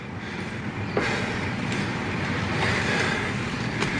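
Trains at an old station, with a continuous low rumble of rolling railcars, a few faint metallic clanks and wheel squeals breaking through, moderately loud and steady with nobody speaking.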